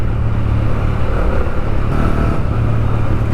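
Honda CB125 Hornet motorcycle engine running steadily and loud, a continuous low rumble with no clear revving, heard close up without talk.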